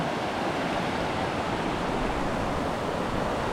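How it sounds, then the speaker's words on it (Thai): Khlong Phaibun waterfall in Chanthaburi, Thailand, gives a steady, close rush of falling water. The broad hiss holds level throughout, with no voices. "บรรยากาศของ น้ำตกคลองไพบูลนะคะ"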